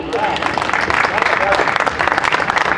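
Audience applause at a Holi comedy gathering, a short burst of many people clapping loudly and continuously, with some voices mixed in.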